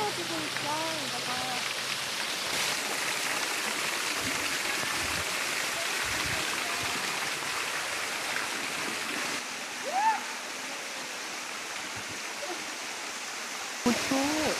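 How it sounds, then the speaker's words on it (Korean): Waterfall on Nami Island pours in a steady, dense rush of falling water that fills the whole scene, with people talking faintly beneath it. "여기 폭포 떨어지고 있어."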